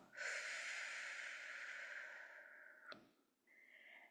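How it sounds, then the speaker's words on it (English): A deep breath drawn in through the nose and let out through the mouth, one long, close, airy inhale lasting over two seconds, then a quick sharp exhale and a brief softer breath after. "take a deep breath in through the nose. Picture it going all the way to your toes and then out through your mouth like through a straw"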